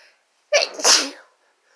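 A single sharp sneeze, loud and close, with a quick intake followed by a burst, from someone in a sneezing fit.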